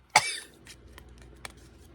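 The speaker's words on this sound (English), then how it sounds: "That shocked me to a cough." A single sharp, close cough bursts out while Japanese Pokémon card packs are opened, followed by faint rustling and small clicks of handling.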